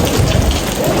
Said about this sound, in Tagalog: wala pa din tigil ang ulan. Habang nagpapatila lalong lumalakas.